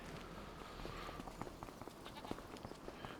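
Sheep bleat in a pen in the Farming Simulator 25 video game, several short bleats scattered over a soft steady ambient bed, moderately near and fairly quiet.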